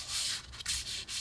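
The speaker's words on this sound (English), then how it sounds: "I'm going to take my heavy abrasive, but I'm going to use it very lightly" A woodwind reed being lightly sanded with a heavy abrasive, giving close, soft, dry rubbing strokes in three or four quick pulls with short gaps between them.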